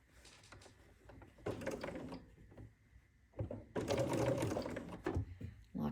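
A sewing machine stitches through a quilt in two runs of rapid, steady needle chatter, the second longer, separated by a quiet pause with small handling clicks, close and clear.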